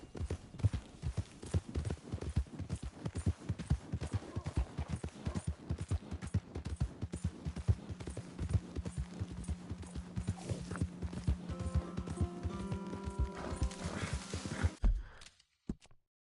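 Rapid, steady clip-clopping of horse hooves in a video game continues for a long stretch, loud and close, with a brief tonal sound near the end before cutting off.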